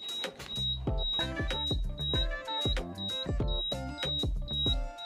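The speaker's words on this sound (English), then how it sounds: "So after the notification and some alarm at the panel" A Siemens fire alarm panel sounding its alarm: a steady, repeating electronic beeping pattern with a high piercing tone over a pulsing lower chime, loud and continuous with no talking.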